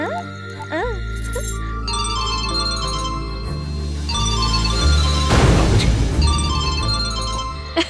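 A phone rings on a call in a Hindi film scene, its bright melodic ringtone rising and falling over steady background music, fairly loud and close.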